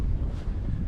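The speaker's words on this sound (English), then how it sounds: "It's a bit windy today, as you can hear" Chilly easterly wind on a summer coast at Westward Ho!, a close, steady low roar of gusts buffeting the microphone throughout the short moment.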